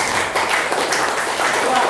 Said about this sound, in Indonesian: beri tepuk tangan dahulu